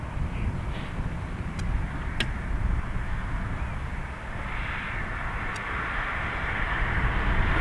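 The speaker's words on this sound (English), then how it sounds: "So we do have a Ryanair taxiing out." A Ryanair airliner taxis at Dublin Airport, its steady, fairly distant jet-engine drone running unbroken throughout, with a few brief clicks and a slightly brighter swell of engine noise late on.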